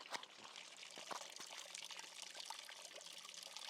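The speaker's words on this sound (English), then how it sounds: "There's a natural water spring." A natural water spring trickles in a private backyard, a steady soft pour and dribble of water running continuously at low level with a few faint clicks.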